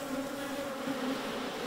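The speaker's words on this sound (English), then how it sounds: "Chen's goal is to find Chinese bees." Chinese honeybees buzzing in a steady, continuous drone that stays close and even throughout, with no voices.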